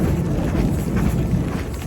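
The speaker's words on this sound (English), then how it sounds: "Nothing like a good old thunderstorm when you're not above tree line." Low thunder rumbling through a mountain thunderstorm in the Sierra below tree line, a continuous deep roll with faint wind noise, fairly steady and distant-sounding.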